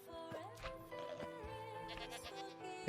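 A Minecraft goat bleats in quick succession, shaky nasal cries with a soft tapping sound, at low volume.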